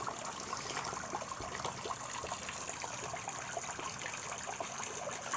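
A front yard water feature spraying water under too much pressure, a steady faint hiss and splatter of water running continuously with no talk.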